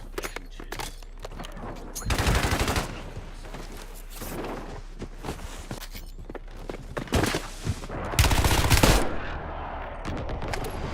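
Machine gun fire in the video game Black Ops 6 Warzone, with dense loud bursts around two and eight seconds over constant background battle noise and scattered footsteps-like thuds.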